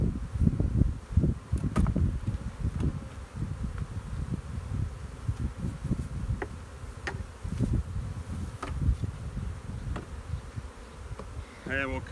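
Honey bees swarming around a beehive stacked with honey supers, a dense close buzzing drone with individual bees zipping past the microphone, steady throughout with light wind, and no talking.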